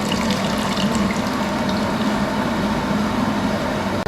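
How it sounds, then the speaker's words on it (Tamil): Tamarind water poured into a pot of pumpkin sambar, a steady close splashing trickle of liquid running continuously and loudly throughout. "புளி ஊற்றிக்கணும்."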